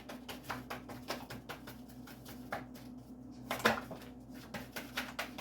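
Quiet, rapid riffling and soft slaps of playing cards being shuffled, with a few brief bursts of handling noise.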